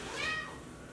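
A house cat gives a single short, rising meow at close range, one brief tonal call with faint room noise behind it.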